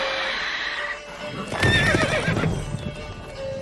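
Horse hooves clip-clop in The Witcher 3 video game, with a loud whinny bursting out midway over steady trotting and game ambience.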